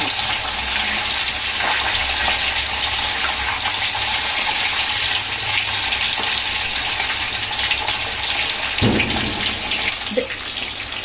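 Fish pieces frying on high flame in mustard oil for a mustard fish curry, a loud steady broadband sizzle with a brief clatter near the end.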